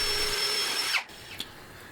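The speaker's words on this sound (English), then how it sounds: "These first holes that I'm drilling are to create an opportunity to screw the faces to the drawers" Power drill boring holes through wooden drawer fronts during a router table build, a steady high whine running for about a second before stopping, followed by a brief faint burst, close and alone without talk.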